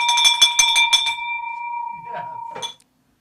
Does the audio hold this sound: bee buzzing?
no